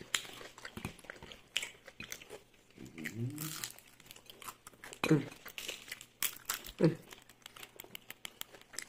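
Crunchy shrimp spring rolls being bitten and chewed, giving a few crisp crackling crunches in short bursts close by, with people talking around them.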